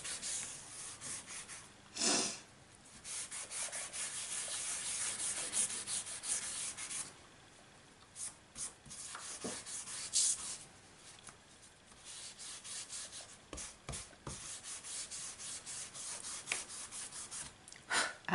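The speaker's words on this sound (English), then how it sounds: "You must go over with your embossing buddy." An embossing buddy pad is rubbed over paper in short, soft swishing strokes, close and faint, with brief pauses between bursts of rubbing.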